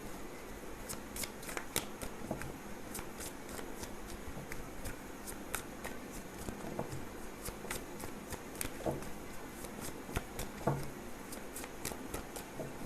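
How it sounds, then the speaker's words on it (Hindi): Tarot cards are shuffled at close range in a continuous run of quick riffling flicks and soft slaps with no talking. "चलिए इसे भी शफल कर लूँ एक बार।"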